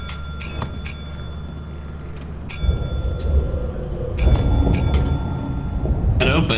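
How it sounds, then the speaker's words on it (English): A vendor's bell in the video game Lethal Company rings in several sharp, bright strikes, with gaps between them, over game noise and rumble while players talk. "I rung the bell."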